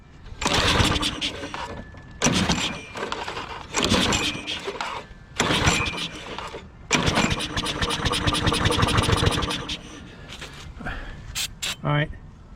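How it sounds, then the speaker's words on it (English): Craftsman lawn mower engine sprayed with starting fluid, cranking and catching in repeated loud bursts that sputter and die between pulls, with people talking over the noise. "we're going to go ahead and hit it with starting fluid and see if this thing starts up at all"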